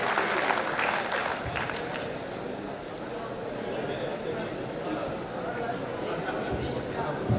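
Audience applause at a Hindi kavi sammelan poetry recital, a sustained burst of clapping from a large crowd, fairly distant and even, with a voice speaking over it.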